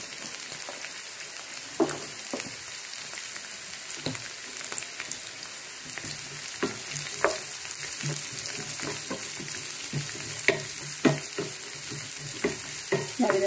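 Onion frying in hot oil over a high flame while making restaurant-style gobi manchurian, a steady loud sizzle broken by repeated sharp clacks of a spatula stirring the pan, with no voice.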